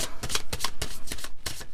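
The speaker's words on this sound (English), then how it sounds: "Let me give this one more shuffle." A deck of oracle cards being shuffled up close, with rapid riffling bursts in a steady rhythm, crisp and alone.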